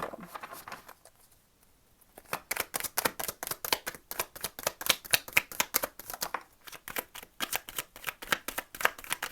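Tarot cards are shuffled by hand in rapid riffling bursts, a dense run of crisp close-up flicks that starts after a short quiet pause and then repeats in quick cycles, with no talk.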